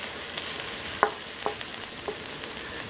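Vegetables fry in a pan, a low steady sizzle broken by a few soft scraping stirs and light clicks, close and quiet with no voices.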